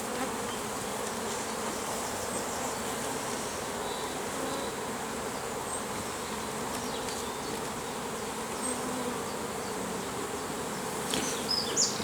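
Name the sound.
honeybees buzzing around an open hive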